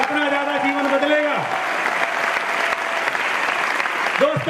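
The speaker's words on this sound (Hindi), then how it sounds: "तालियां बजाने से डरो मत, जितनी तालियां बजेंगी उतना ज्यादा जीवन बदलेगा" A large crowd at an Amway Diamond celebration in India breaks into loud, sustained applause, a dense rush of clapping with a voice calling out over it at the start and again near the end.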